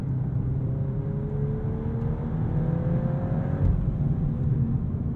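Volkswagen Golf R hot hatch under full-throttle acceleration, heard from inside the cabin: a steady low engine drone with rising tones as revs climb, moderately loud and continuous, without talk.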